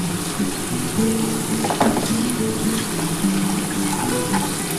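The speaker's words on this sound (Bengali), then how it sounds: "খুব ভালো করে পেঁয়াজটা ভেজে নিতে হবে" Onion and tomato frying in a pan with spice paste: a steady, close, even sizzle with light bubbling and the occasional scrape of stirring, no voices.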